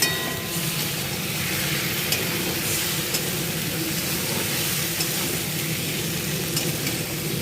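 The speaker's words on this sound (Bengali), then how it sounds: "আদা রসুন কাঁচা লঙ্কার পেস্টটা দিয়ে দিলাম। দিয়ে আবার কিছুক্ষণ কষাতে থাকবো।" Ginger, garlic and green chili paste sautéing in a pan with salt and turmeric, a steady loud sizzle running throughout with faint stirring scrapes, no voices.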